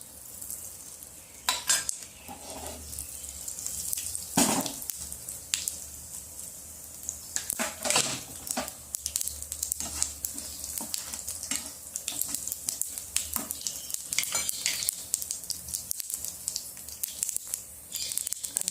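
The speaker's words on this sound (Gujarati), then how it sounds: "આ આપણું તેલ ગરમ થઈ ગયું છે હવે આની અંદર રાઈ જીરું હિંગ અને વગરના મરચાં નાખી દઈશું" Mustard seeds, cumin, asafoetida and dried chillies crackling in hot oil for a raw mango curry, a continuous close sizzle with frequent sharp pops, spatters and stirring clinks throughout.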